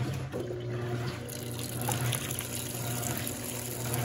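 Water pours steadily into the drum of an Electrolux Turbo Flex LQ11 washing machine, a continuous rushing flow with a low hum underneath, no one speaking.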